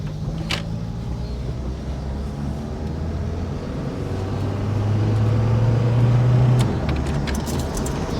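A 1985 Honda Accord that had sat unused, driving on the road, heard from inside as a steady low engine drone with road rumble that swells slightly as it accelerates, then eases back.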